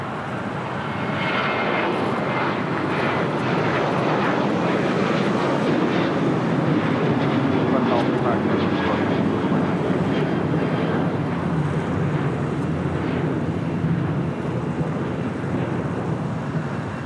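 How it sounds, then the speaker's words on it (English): A United Airlines Boeing 787-9 Dreamliner arriving from Newark lands on runway 24 right at LAX, giving a loud, steady jet roar that holds close and unbroken for the whole stretch, with some wind buffeting mixed in. "United Airlines Flight 1770 coming in from Newark, a 787-9 Dreamliner. Arriving on the north side on 24 right"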